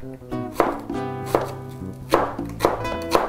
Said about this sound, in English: I'm gonna chop my onion,